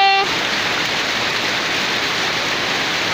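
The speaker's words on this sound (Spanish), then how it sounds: "granizada aquí en San Antonio." Hail pours down steadily during a hailstorm in San Antonio, Jamundí, Valle, a dense continuous patter like heavy rain on surfaces, loud and unbroken from start to end.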